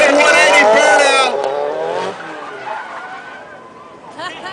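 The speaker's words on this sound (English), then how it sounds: "And here comes DiGerio Yoshihara, rocking a 360 for you," A drift car at the NOPI Nationals drifting event at Atlanta Motor Speedway squeals its tires during a 360 with a burnout, a loud wavering screech that fades into engine noise while an announcer talks over it.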